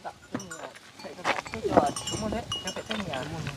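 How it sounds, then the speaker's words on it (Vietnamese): Goats bleating several times close by, their calls mixed in with people talking outdoors. "Con dê này là dê nhà chị May"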